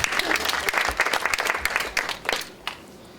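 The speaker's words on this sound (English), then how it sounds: "a warm round of applause for our distinguished guests" Audience claps for distinguished guest speakers at an academic disability studies event, a dense burst of applause that thins out and fades over about three seconds.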